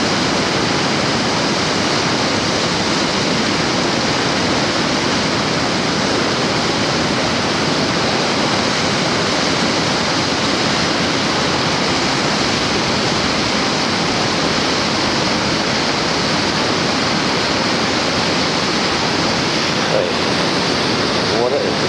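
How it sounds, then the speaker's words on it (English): Massive amounts of water rush forward in a loud, continuous roar like a waterfall or heavy surf, steady throughout and up close. "Water is rushing forward. Massive amounts."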